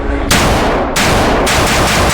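Watchtower Type 15 NSRO rifle fitted with a muzzle brake fires indoors, three very loud, close shots in quick succession, each with a harsh blast that rings into the next.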